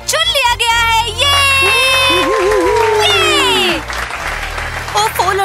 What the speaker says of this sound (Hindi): चलो याना के लिए तालियां बजाओ